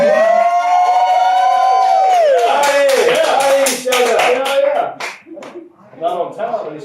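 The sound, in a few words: round of applause, clapping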